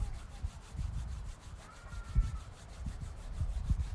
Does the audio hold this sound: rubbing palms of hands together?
yes